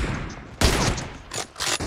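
Gunfire in the BGMI battle royale game during a team deathmatch, a loud sharp burst followed by further rapid shots and spray, dense and close.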